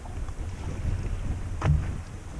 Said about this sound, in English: A west wind and a southwest wind and a little bit of a west-northwest breeze comes around the corner of Twin Islands